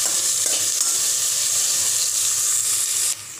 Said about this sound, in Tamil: வெங்காயம் சேர்த்து நல்லா வதக்கி விட்டுக்கலாம்.